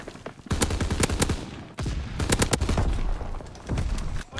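Call of Duty WW2 gunfire hammers out in rapid bursts, loud cracking shots clustered in three quick volleys with brief gaps between them.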